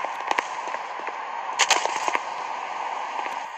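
Sharp bursts of explosive cracks from a hand grenade blast in the mobile shooter game Gun of Boom, with a cluster of loud pops near the middle over a steady bed of game noise.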